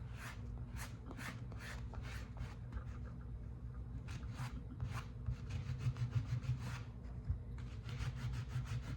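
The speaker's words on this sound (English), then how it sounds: "I'm beginning to like it better the more I sand on it though." A broken candle holder with a stone-look finish being sanded by hand, with repeated short rasping strokes in uneven rhythm, close and fairly quiet over a low background hum.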